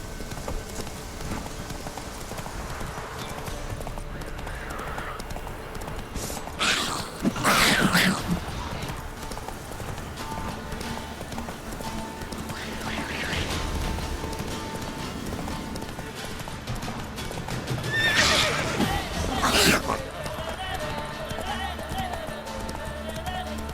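Roach, a horse in The Witcher 3: Blood and Wine, clip-clops along steadily with hooves running and a few whinnies, under ambient game sound and a rider's voice.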